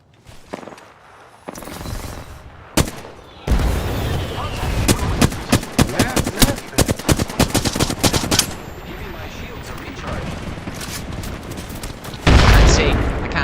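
Rapid bursts of close, loud automatic gunfire from an Apex Legends firefight, repeated volleys with brief gaps, then a heavy final burst; a voice talks faintly underneath at times.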